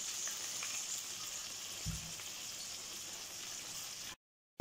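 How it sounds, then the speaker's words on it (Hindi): Chicken dabo frying in a pan makes a steady, fairly quiet sizzle with faint crackles throughout, then cuts to silence near the end. "अब अच्छे से ये फ्राई हो जाएंगे"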